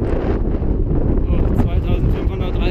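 Strong mountain wind rushes and buffets close to the microphone at 2530 metres on a hike up the Zugspitze, a continuous low roar with faint higher gusts.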